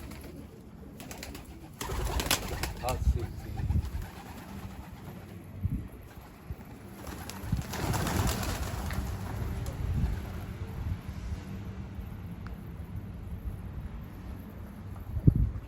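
Pigeons cooing on a rooftop in hot weather, a low murmuring coo repeating near and far under steady wind noise and outdoor rustle.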